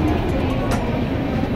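A crowded Mumbai local train runs from Thane toward Panvel. Its low, steady rumble is loud and continuous, with indistinct voices mixed in.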